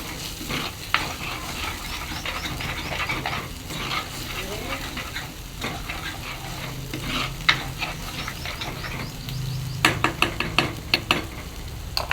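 Mutton curry simmers in a pot with a steady, close bubbling and sizzling, while clinks of utensils stir through it near the end.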